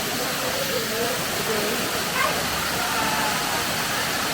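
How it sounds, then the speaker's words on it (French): Small waterfall in a remote spot in Martinique, heard as a steady, dense rush of falling water that fills the whole clip at an even level, with no voices over it. "on est venu voir une petite cascade"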